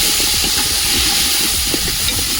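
Tomatoes go into a hot pot of burnt onions while biryani cooks outdoors in the rain, sizzling with a loud, steady hiss. Faint low knocks sit underneath, and nobody speaks.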